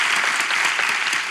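Dense applause from a studio audience on a Turkish talk show, a short, even burst of many hands clapping close and loud with no pause.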